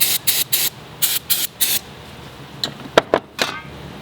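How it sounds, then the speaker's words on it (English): Several short hissing bursts of aerosol starting fluid sprayed onto a VW engine timing chain, in quick pulses at first, then a few sharper, sporadic sprays nearby. "spray this chain down with a little bit of starting fluid to clean it off"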